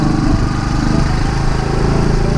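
A Honda Cub motorcycle fitted with a Chinese-made engine runs in third gear during a break-in ride, its small single-cylinder engine giving a steady, close, continuous buzzing drone with no talk over it.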